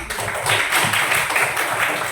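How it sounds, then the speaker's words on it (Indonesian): Students in a classroom clap together after a lesson, a brisk, steady burst of applause heard close by. "Kalau begitu tepuk tangan buat mereka"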